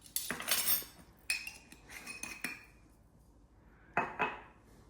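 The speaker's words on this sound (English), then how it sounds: "I've already sifted the flour, and I'm just mixing in the spices." A utensil clinks and scrapes against a bowl as sifted flour and spices are mixed for a citrus-infused bread, with several clusters of bright metallic taps and a pause before a final burst.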